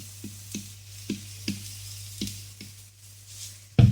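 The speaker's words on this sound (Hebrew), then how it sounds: "בינתיים אני מטגנת את רגלי הפטריות קצת בשמן עם הבצל" Mushroom stems and onion fry gently in oil, giving a soft sizzle with sharp spatters and pops at irregular intervals, then a louder clatter at the end.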